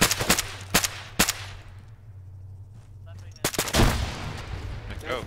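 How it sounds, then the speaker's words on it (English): Flashbang grenades bang during close-quarters battle training in a mock Afghan compound: several sharp, loud blasts come in quick succession, then a quieter pause, then another burst of bangs with shouting voices nearby. "Throw flashbangs."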